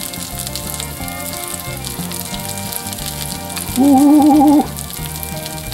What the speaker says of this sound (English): just kind of let it simmer for a little while. Let these continue to brown up